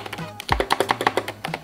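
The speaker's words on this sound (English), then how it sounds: "They are very soothing whenever you're typing just because of the sound they make" Fingers type on a computer keyboard, producing a quick, even run of about a dozen close, crisp clicks and taps in steady rhythm, with no speech.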